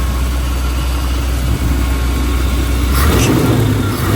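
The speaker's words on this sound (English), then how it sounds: "Let me rev it up for you a little bit." A 1961 Chevrolet Apache Custom C10 truck engine running close and loud, a steady rumbling idle that swells into a rev near the end.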